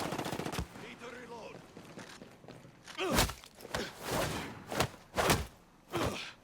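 Gunfire rings out in the video game Ghost Recon Breakpoint: sharp, loud bursts and single shots arriving irregularly, some clustered in quick volleys, with softer footsteps and faint voices in between.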